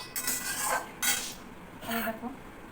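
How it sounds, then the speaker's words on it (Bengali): A metal utensil scrapes and clanks against a pan while spiced rice is stir-fried with masala, in three distinct close scraping strokes with quiet gaps between them. "আর এটা মশলা দিয়ে একটু কষিয়ে নিচ্ছি"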